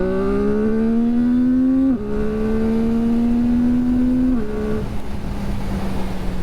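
CF Moto 675SS sport bike accelerating hard with a quick shifter, loud rising engine note that breaks cleanly and briefly at two rapid upshifts before settling as speed builds.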